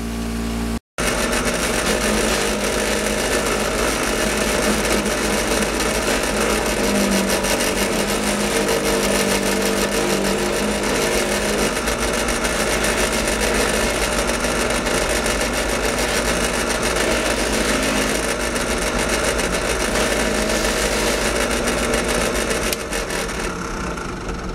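A motor-driven buffing wheel spins steadily against aluminum motorcycle parts with polishing compound, a continuous loud whirring hum with slight variations as pressure changes, uninterrupted after a brief break at the start.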